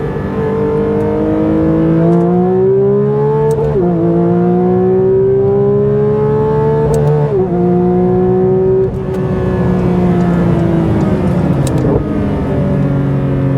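A performance car accelerating hard through repeated gear changes, the engine note climbing steadily, dipping briefly at each shift and rising again, loud and close from inside the cabin.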